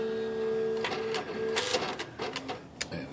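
A Smith Corona H Series electronic typewriter powering up: a steady motorized hum, then a quick run of mechanical clicks and clacks as the carriage resets, close and clear.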